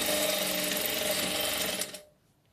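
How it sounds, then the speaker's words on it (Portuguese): A sewing machine stitching a straight seam that joins two pieces of a doll dress, a fast continuous mechanical whir that runs close and steady before stopping abruptly near the end. "E vou passar uma costura reta unindo os dois"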